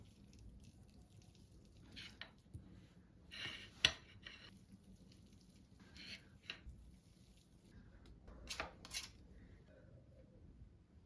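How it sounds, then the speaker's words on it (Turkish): Boiled potatoes being mashed in a bowl, quiet soft squishing and a few scattered utensil clicks against the bowl, close and faint with pauses between strokes. "Şimdi bir de patatesimi ezeceğim."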